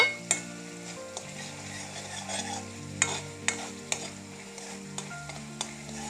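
Garlic paste for a chutney is stirred and fried in a pan. A soft, steady sizzle runs beneath a series of sharp metallic spoon clinks and scrapes that come at uneven intervals.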